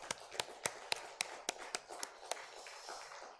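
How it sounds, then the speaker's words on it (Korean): A congregation claps in praise at an early-morning Lent prayer service in a Korean church, with a dozen sharp, roughly evenly spaced claps that fade toward the end, fairly quiet and without speech. "하나님 앞에 영광을 돌리는 박수를 한번 올려드리겠습니다"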